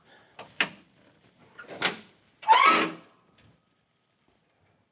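A classic car door with no handles gets worked open in a quiet shop: two short sharp clicks, a louder knock, then a longer scraping clunk as the door swings, each separated by brief silence.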